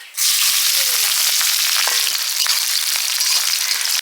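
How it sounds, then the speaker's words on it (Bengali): Onion and green chili dropped into hot leftover fish-frying oil burst into a loud, close, continuous hiss that starts abruptly and holds steady, with a few faint stirring clicks and no talk. "ঝোল হবে মাছ ভাজার তেলে পেঁয়াজ কাঁচা লঙ্কা"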